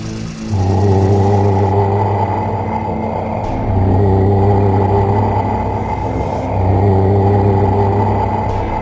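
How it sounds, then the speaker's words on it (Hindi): A cartoon car engine rumbles and whirs steadily as it speeds away, swelling in three long revving surges with a low droning tone, loud and close, with no voices. "गुल्ली ने गाड़ी की स्पीड बढ़ाई और तीनों वहां से फरार हो गए"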